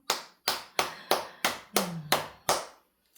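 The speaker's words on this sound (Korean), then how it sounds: "우리 한번 주님께 박수, 영광의 박수 한번 올려드릴까요?" A church congregation claps in unison during a Sunday worship service, about eight sharp, evenly spaced claps that stop abruptly, with no voices over them.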